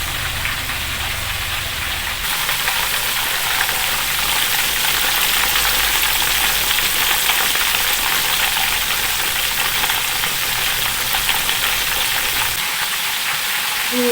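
Steady, loud crackling sizzle of chicken deep-frying crispy in plenty of hot oil, continuous throughout with no voices.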